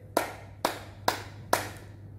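Four sharp, evenly spaced hand claps ring out close and clear from a children's online church lesson, each a crisp separate slap over a faint low hum, with no talking.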